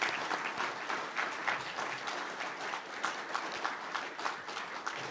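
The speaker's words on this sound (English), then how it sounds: "Could we give them a nice round of applause?" An audience at a university press anniversary event claps for English department colleagues, a warm, fairly quiet and steady round of applause from a modest crowd lasting several seconds.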